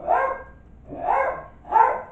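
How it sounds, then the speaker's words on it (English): Dogs bark in three separate bursts about a second apart, close and fairly loud, each bark a short rough yelp with quiet gaps between. "I gotta go see what these dogs carry on about."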